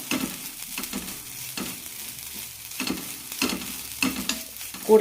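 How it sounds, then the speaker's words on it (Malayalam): Grated coconut, about a quarter cup, heated in a pan for a Kerala bengal gram curry, heard as close, repeated scraping strokes of a spoon stirring against the pan over a soft sizzle, with no voices. "ഇനി ഇതിലേക്ക് കാൽ കപ്പ് തേങ്ങ ചേർക്കാം നന്നായി ഒന്ന് ചൂടാക്കി എടുക്കാം"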